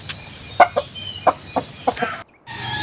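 Chickens freshly bathed and set outside to dry, giving a handful of short, close clucks spaced irregularly over a low background hum.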